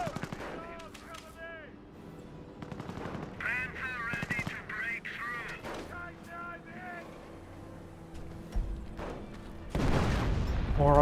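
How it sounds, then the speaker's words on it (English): Artillery and gunfire rumble through a Company of Heroes battle, with heavy booms and bursts toward the end; a voice talks over much of it while chirping tones come and go. "More artillery there."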